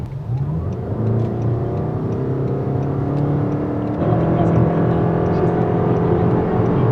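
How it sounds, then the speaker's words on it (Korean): A Toyota Crown dual-boost hybrid with E-Four electric all-wheel drive accelerates hard with three men aboard. The engine drones loudly from inside the cabin, rising steadily in pitch with a slight shift partway through, and no talk is heard. "남자 3명이 타 있는 상태에서 급가속을 한번 해보겠습니다"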